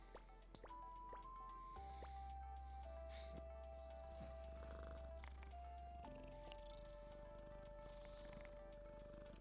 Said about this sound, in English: You're just gonna purr through this one.